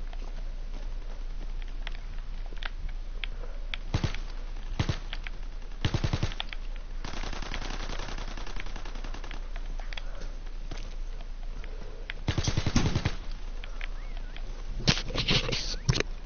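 Video game gunfire, rapid automatic bursts and scattered single shots crackling over a low ambient bed, several short volleys spread across the stretch.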